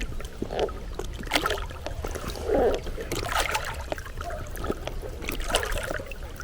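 A belly boat moving across a lake on a pike-fishing trip, with soft, steady water swishes, small splashes and trickles close by, and no talking.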